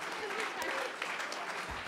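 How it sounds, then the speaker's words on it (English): Audience applause during a Christmas-season concert, a dense steady wash of clapping lasting under two seconds at moderate level, with a faint voice or two blended in. "please give Mr. Rick Gore and his wife, Terry, a wonderful round of applause"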